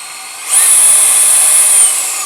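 A Flex power drill fitted with an auger bit spins up at variable speed without turbo, its loud high-pitched whine starting half a second in and holding steady before easing slightly at the end.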